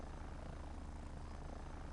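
Helicopters in the strategy video game Earth 2150 give off a faint, steady rotor and engine drone that runs unbroken throughout.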